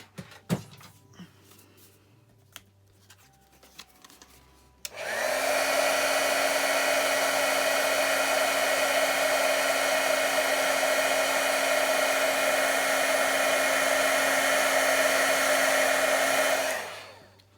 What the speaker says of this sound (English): Let's put the lids back on things and then heat this with a heat gun.